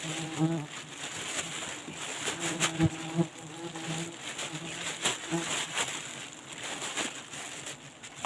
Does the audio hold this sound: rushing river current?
no